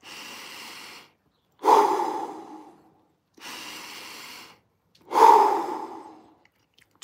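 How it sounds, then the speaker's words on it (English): Heavy, labored breathing of a man catching his breath after an ice bath: four long, loud breaths alternating between hushed inhales and forceful, gasping exhales, close to the mic with no talking. "I need to get my breath back."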